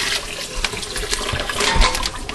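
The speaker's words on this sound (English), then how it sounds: "You're going to pour your brine right over the meat" Brine poured from above into a bag holding brisket for homemade corned beef, a continuous close splashing gurgle of liquid that stays steady and fairly loud throughout, with no voices.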